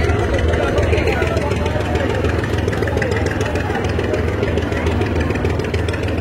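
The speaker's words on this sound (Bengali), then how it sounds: "আর লঞ্চটি এই মুহূর্তে ঢাকা থেকে ব্যাক গিয়ার দিয়ে দিচ্ছে গোলাঘাট ভান্ডারিয়ার উদ্দেশ্যে।" A passenger launch ferry at a Dhaka dock runs its engine in reverse, a steady heavy rumbling drone that continues throughout under a voice.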